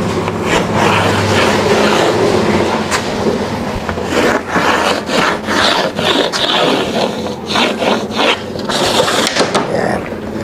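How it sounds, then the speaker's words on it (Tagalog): A handsaw rasps through a wooden board for a door in steady back-and-forth strokes, close and continuous. "Tapos lalagarin natin yan."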